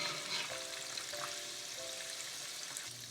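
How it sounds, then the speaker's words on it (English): Kulkul pastries fry in hot oil in a pot, giving off a steady, bright sizzle with a faint stirring clink now and then and no voices. "When frying kulkuls, you've got to constantly gently pick them up and toss them around"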